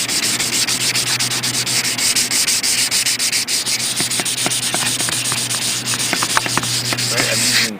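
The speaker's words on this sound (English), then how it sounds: "take some 400 grit sandpaper and go over the body filler, just kind of smooth it out even further" 400-grit sandpaper rubbed over body filler on a computer case bezel, a steady close scratchy rasp that runs continuously without pause, with a low hum underneath.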